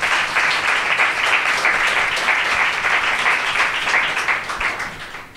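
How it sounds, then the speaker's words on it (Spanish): An audience gives a speaker a strong round of applause at a talk on eating disorders, a full, lively burst of clapping that holds steady before tapering away. "dale un fuerte aplauso"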